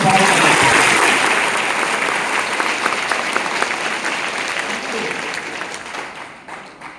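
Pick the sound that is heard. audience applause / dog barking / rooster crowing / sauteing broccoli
audience applause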